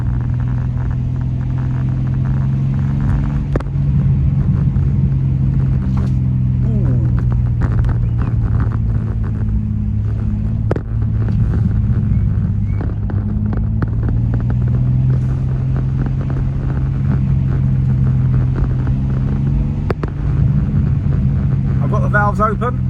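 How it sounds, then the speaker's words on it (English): A 2025 BMW M2 driven slowly with its exhaust valves open, a loud, close, deep, steady exhaust rumble with shifting engine pitch and occasional pops and crackles, running continuously throughout. "Listen to that roar, and I'm only going slow."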